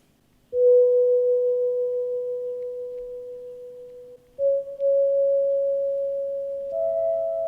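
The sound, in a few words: synth bell notes with full reverb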